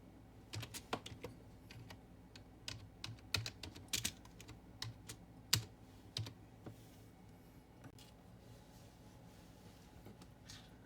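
Typing on a computer keyboard while erasing and rewriting text for an eBay listing: quiet, close, irregular key clicks in short bursts with a few sharper taps, no voices.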